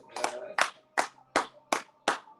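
A church congregation claps together at morning prayer, six sharp, evenly spaced bursts of hand-clapping in a steady rhythm, moderately close, with no talking over it.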